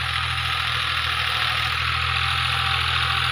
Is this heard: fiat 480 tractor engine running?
yes